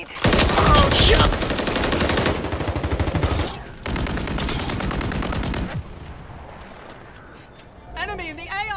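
Rapid automatic gunfire in Call of Duty: Modern Warfare III, long dense bursts of loud, close shots separated by a brief pause, then quieter game sounds with talk mixed in.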